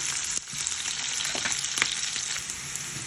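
Onions frying in a pan for a Jaffna-style liver curry, a steady dense sizzle with small crackles and a few stirring scrapes, close and continuous throughout, with no voices.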